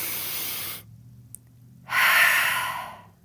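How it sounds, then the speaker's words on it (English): A single open-mouthed breath exhaled during a gentle morning yoga flow, a broad breathy whoosh up close, then silence, a faint tick, and a second strong airy exhale that trails off. "sweep your arms overhead and bring an open mouth exhale to your heart"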